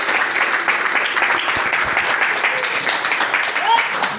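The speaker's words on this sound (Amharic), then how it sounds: "አጨብጭቡለት።" A church congregation clapping together in a loud, dense wash of applause, with voices and cheering mixed in throughout.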